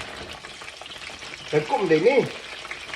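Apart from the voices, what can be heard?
french fries frying in hot oil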